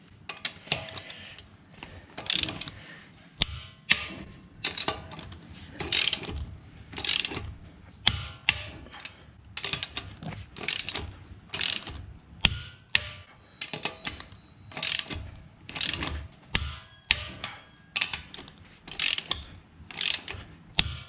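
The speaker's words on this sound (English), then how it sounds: "at 100 foot-pound of torque to tension these wheel nuts" Torque wrench ratcheting as car wheel nuts are tensioned to 100 foot-pounds in a crisscross pattern: repeated sharp mechanical clicks in uneven bursts throughout, close and clear, with no talking.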